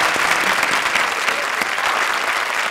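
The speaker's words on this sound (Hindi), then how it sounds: "हमारी जोड़ी के लिए जोरदार तालियां." Audience applauding at an Indian television comedy show, a loud, sustained burst of many hands clapping at once, close and continuous with no talking.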